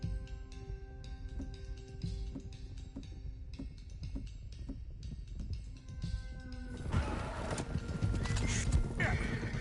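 Horses in a western video game, with rapid clip-clop hooves and neighing close up, and a louder rush of movement and noise building near the end.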